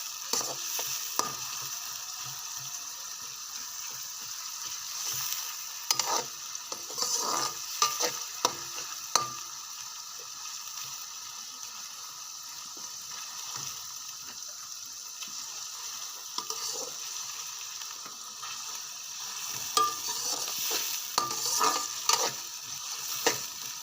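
Onions fry in a pan with a continuous crackling sizzle. Frequent scraping stirs sound close and uneven, with louder bursts of stirring now and then and no talking.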